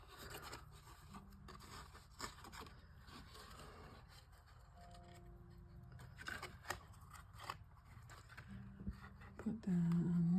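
Scissors cutting through craft material, heard as quiet, close snips and rubbing sounds spread unevenly over the moment, with a person talking softly now and then.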